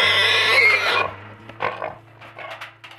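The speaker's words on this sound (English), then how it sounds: "under attack from a powerful foreign invader: feral pigs." Feral pigs squeal loudly, then grunt in short rough bursts at close range, with a steady low hum underneath.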